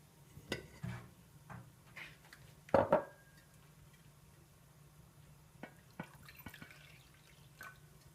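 Water scooped and poured with a small bowl while preparing baursak dough: a few soft splashes and drips, with one louder pour-splash burst midway, quiet and close with no talking.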